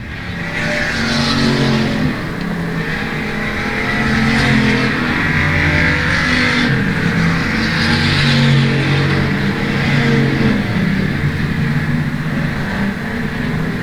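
Pure stock race cars lapping South Texas Speedway, engines roaring loud and continuous with rising and falling revs as the pack passes, a track announcer's voice faintly mixed in.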